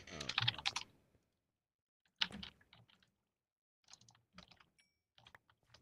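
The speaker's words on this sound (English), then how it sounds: "I keep fucking typing." Rapid clattering bursts of typing on a computer keyboard, close and fairly quiet, coming in a few separate flurries with short silent gaps between them.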